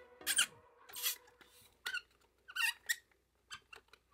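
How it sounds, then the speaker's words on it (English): Squeaking plastic joint of a Mattel Jurassic Park Hammond Collection Tyrannosaurus rex figure, heard as several short, close, high-pitched squeaks and rubs spaced irregularly as the limb is worked, with no talking. "What is a bit grating for me is that squeak."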